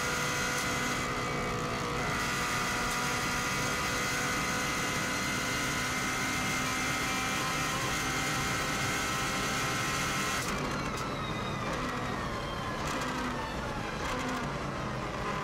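A Subaru WRX STI engine pulls hard under power on the Isle of Man TT road course, a steady loud drone with a rising tone and a brief shift near the ten-second mark, with no talk.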